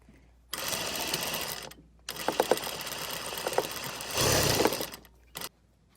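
A sewing machine stitches a garment sleeve seam in several bursts of rapid mechanical whirring and clatter, separated by short silent pauses, heard up close.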